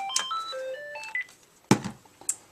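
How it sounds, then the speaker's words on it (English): A telephone in a home craft room rings with a quick run of bright electronic beeping tones, followed by a few sharp clicks and knocks. "Oh no, the phone's ringing."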